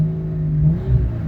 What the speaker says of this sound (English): Idle control works great.